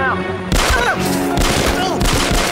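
Gunfire crackles through a dramatic police scene, with a sharp report about halfway in and further loud bursts following, all close and heavy, while voices shout in the background.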